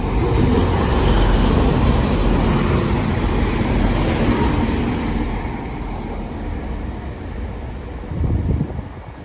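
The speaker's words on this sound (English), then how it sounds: "And this train's going to Liverpool" A Class 185 diesel train passes through a station toward Liverpool, a loud broadband rumble with wind buffeting that fades somewhat before a brief swell near the end, no voices.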